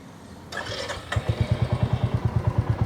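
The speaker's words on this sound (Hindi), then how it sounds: "लेकिन खड़ी गाड़ी कैसा साउंड करती है। मैं डालता हूँ इसको न्यूट्रल।" A new Royal Enfield Classic 350 idles in neutral, its engine settling into a steady, rhythmic thump after a short burst of noise at the start, close and clear with no voices.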